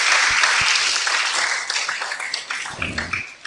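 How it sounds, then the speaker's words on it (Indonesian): A group applauds a student named Gian during a religious study session, a brief burst of clapping that starts full and thins out over a few seconds, with a few sharper claps early and a faint voice near the end. "Tepuk tangan untuk Gian."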